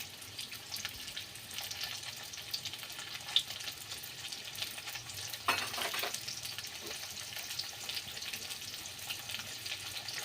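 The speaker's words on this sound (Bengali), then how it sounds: "ঢাকা দিয়ে দিয়ে ভেজে নেব আলুটা।" Potato pieces fry in a pan with a steady soft sizzle and crackle, plus a couple of faint scraping stirs, no talking, quiet and continuous.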